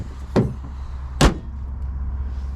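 A Ford F-150 SuperCab truck door opens with two sharp latch clicks and thuds, close and fairly loud, over a low steady hum with no talking.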